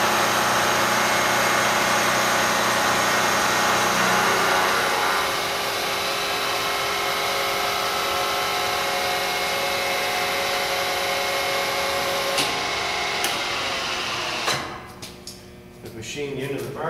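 A vertical milling machine takes a small finish cut on a part under power feed, a steady whirring motor drone with a high cutting tone that runs continuously, then winds down near the end; a voice talks over parts of it.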